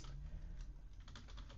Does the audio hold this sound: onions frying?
no